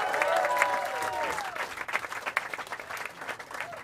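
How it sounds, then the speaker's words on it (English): An audience at a stand-up comedy showcase applauds a comic, with dense clapping and some whoops and cheers rising over the crowd before thinning toward the end. "Start clapping right now for Alec Flynn"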